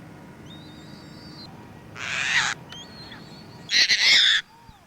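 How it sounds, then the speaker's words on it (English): A Caspian tern calls in Washington with two loud, harsh, rasping screeches spaced a couple of seconds apart. Fainter high chirps from other birds sit in the background. "Caspian tern."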